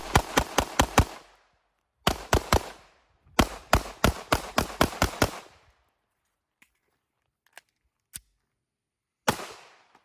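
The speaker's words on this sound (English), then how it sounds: "I'm gonna just shoot a lot of things really quickly and see if we can get any malfunctions" A pistol fitted with a Radian Ramjet fires +P ammunition in rapid strings of five to seven sharp, close cracks, then a pause, a few scattered faint clicks, one more shot and a final burst.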